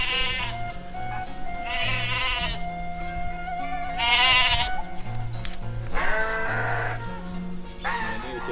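A two-month-old lamb bleats repeatedly while being bottle-fed, its wavering cries coming in close, loud bursts with short pauses between, over a steady low background hum.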